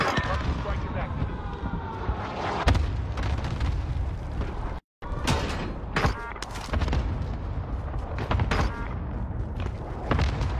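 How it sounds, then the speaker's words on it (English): Repeated heavy explosions and booming blasts from an airstrike in a video game fill a busy battle scene, with rumbling impacts spread across the scene and a brief silent gap near the middle. "Target marked for airstrike."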